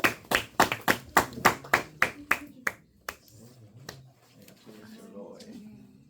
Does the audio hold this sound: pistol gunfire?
no